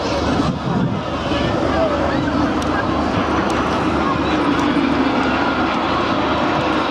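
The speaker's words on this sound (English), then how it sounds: "the designation of this aircraft is UT-1, which shows that it is actually a two-seat trainer aircraft" UT-1 two-seat trainer jet flying low past the pier at a seaside air show, a loud continuous jet roar with wind buffeting the microphone, heard alone without talk.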